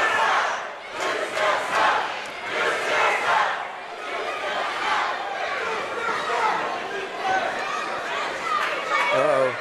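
A wrestling arena crowd jeers and murmurs at Charlie Haas during a count-out, a dense, steady roar of many voices that swells and ebbs, with a commentator talking over it.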